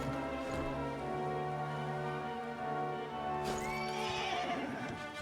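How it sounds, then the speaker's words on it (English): A horse in the video game Dragon Quest 11 gives one bright, rising whinny near the end, over steady sustained game music. "Horsey! Where did you come from?"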